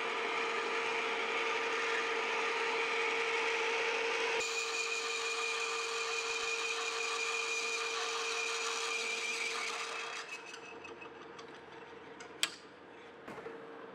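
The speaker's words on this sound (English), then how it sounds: "close to what's rated for drilling a 1-inch hole in cast iron" Steady whirring machining noise of a lathe drilling a 1-inch hole into a cast iron gear blank, with a constant tonal hum, then the cutting tapers off and a sharp clunk sounds near the end.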